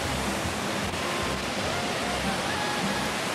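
The Ban Gioc waterfall, a dense, constant roar of falling water that stays loud and unbroken throughout, a faint voice buried beneath it.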